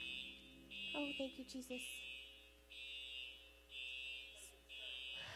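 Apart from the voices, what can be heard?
fire alarm going off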